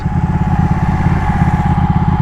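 Ducati Panigale 1199S Tricolore motorcycle being ridden, its engine a steady, loud, rumbling drone with a dense pulsing low end that holds level throughout, with no voices.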